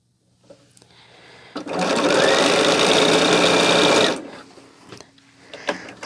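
A sewing machine stitches gift bags in one steady burst of about two and a half seconds, loud and close, framed by quieter handling clicks before and after.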